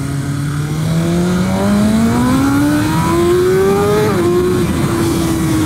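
A BMW M1000RR motorcycle engine winds up steadily under hard acceleration, one loud close rising whine that dips briefly at a gear shift before climbing on.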